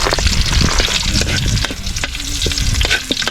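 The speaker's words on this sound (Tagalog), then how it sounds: "Ayan na, ginisa na yung sahog." Ingredients for seafood adobo sautéing in a pan: loud, continuous frying sizzle with stirring scrapes and occasional knocks, close up and without talk.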